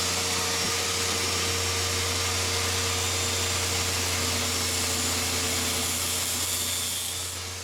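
A table saw runs steadily, whining loud and close as it cuts recesses into a wooden guide bar for a homemade band saw's blade guides, the drone holding even before it tapers off at the end.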